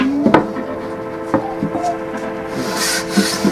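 A wooden box lid slides into place in a woodworking shop with dry rubbing and scraping of wood on wood, broken by a few close knocks, against a steady hum.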